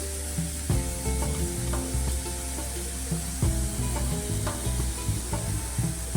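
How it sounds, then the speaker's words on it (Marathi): Onion and tomato soften as they fry in a pan for a homestyle cabbage bhaji, with a continuous sizzle under repeated stirring and scraping strokes and a faint tonal hum in the background. "कांदा टोमॅटो आता नरम होत आले. आपण आता धना पावडर टाकूया."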